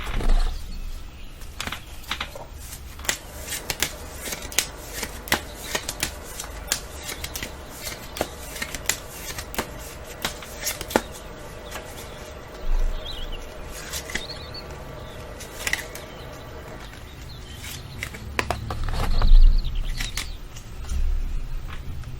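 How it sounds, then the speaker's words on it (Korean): Tarot cards are shuffled and drawn in a quiet room: scattered crisp flicks, snaps and soft rustles, close and light, arriving in irregular bursts with short pauses between them. "두 분은 어떻게 하면 좋을지 한번 타로를 뽑아볼게요"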